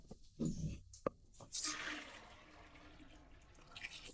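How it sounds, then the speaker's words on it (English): A toilet in a Philippine restroom flushes with a sudden rushing, gurgling wash of water that settles into a steady hiss, preceded by a brief clunk of the handle; a voice is faintly heard nearby. "Let's go and flush it."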